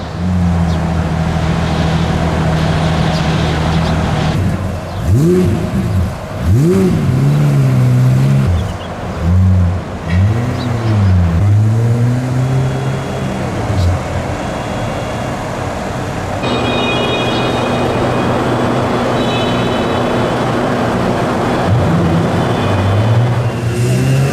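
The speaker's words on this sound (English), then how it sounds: "the last thing I thought I'd be doing is driving up a ramp at Dubai Airport" A Pagani Zonda sports car engine drones loudly and steadily near an airport in Dubai, with sweeping rises and falls in pitch as the car revs and creeps up a ramp, continuous throughout.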